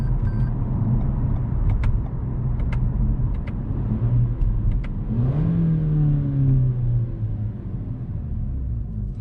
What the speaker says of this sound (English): it sounds pretty good when it shifted all the way to the first gear